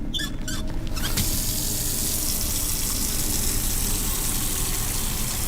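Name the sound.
water filling a bucket in video game Autopsy Simulator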